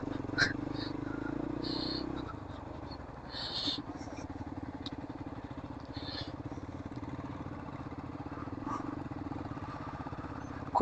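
A motorcycle creeps slowly over a rough road, its engine a low, steady putter with a small shift in tone early on and scattered light knocks and rattles.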